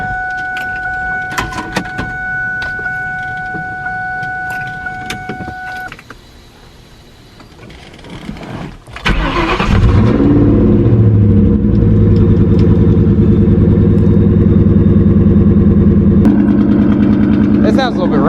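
A 1999-2004 Ford Mustang GT with an unplugged coil pack is switched on, with power-window whirs and clicks first, then a brief lull, then the V8 catching and settling into a loud, steady, uneven idle.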